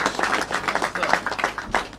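An audience claps and applauds at a rapper's emotional moment, a dense, steady patter of many hands filling the space, fairly loud and close throughout.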